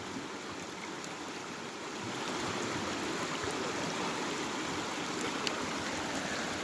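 A creek flows past a gravel bar, a continuous broadband rush of water that swells slightly louder after the first couple of seconds and stays steady and close, with no voices.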